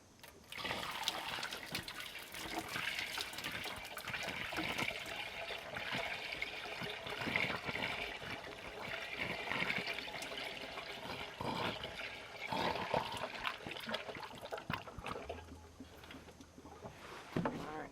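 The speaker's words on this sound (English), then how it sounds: "start by putting some water in" Water pours and splashes continuously into a container nearby, a steady gurgling rush with no talking, as water is added to diesel sludge for mixing.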